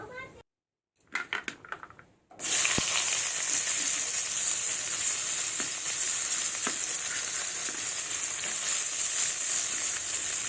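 Chopped onion hitting hot oil in a pan after fish has been fried, a loud close sizzle that bursts in after brief clatter and keeps hissing steadily, with occasional utensil taps.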